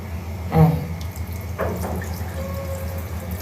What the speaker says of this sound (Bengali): ধুয়ে ফেলবো।